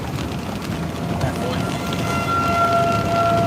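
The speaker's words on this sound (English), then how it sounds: "Tornado sirens going off." A distant tornado siren wails steadily during a storm in Arkansas, its tone sustained and faint through a blustery outdoor wash of wind and rain-like noise.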